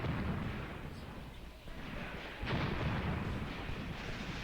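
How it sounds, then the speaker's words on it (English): Mortar fire in the WWII tactics game Graviteam Tactics, set around Kharkov in 1941: a continuous dense rumble of distant explosions and booms blending into a heavy roar, fairly steady with a slight surge midway. "are these our mortars or are those Russian mortars firing at us?"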